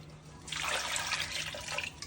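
Water pours into a pot for Onam wheat payasam, a steady splashing rush that swells in and runs on, close and moderately loud, with no talk.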